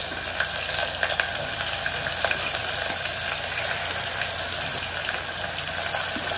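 Chopped onions frying with cumin in a pan for chicken pulao, a loud, continuous close sizzle with faint crackles and stirring scrapes throughout.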